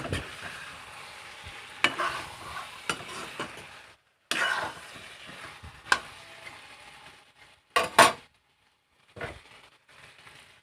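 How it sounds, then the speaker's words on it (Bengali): Water goes into a pot of boiled eggplant with fish head and is stirred in, with scraping, sloshing strokes and short sizzling bursts separated by brief pauses. "দিয়ে দিচ্ছি পরিমাণ মতো জল দিয়ে নেড়ে চেড়ে আবারও ঢাকনা দিয়ে ডেকে রান্না করব"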